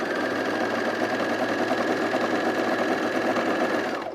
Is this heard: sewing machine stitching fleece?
yes